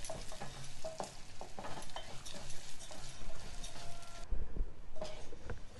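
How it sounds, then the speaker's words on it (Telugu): Moong dal frying in hot oil, a steady crackling sizzle with frequent scraping and clinking of a spoon stirring the pan, close up and continuous, no talking. "నూనె వేడెక్కగానే ఒక 1/2 కప్పు పెసరపప్పు వేసుకోవాలి. ఇది కొంచెం ఎర్రగా వేగనివ్వాలి."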